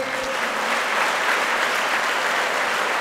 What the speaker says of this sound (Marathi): जोरदार टाळ्यांच्या गजरात हुलसरे सरांचं स्वागत करा